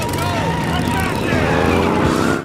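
A truck drives past in a film, a loud, continuous engine roar that fills the whole moment, with a voice talking over it.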